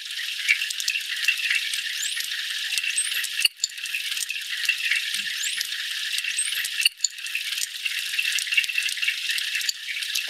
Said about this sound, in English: It's the sound of water plus the sound of the dolphin.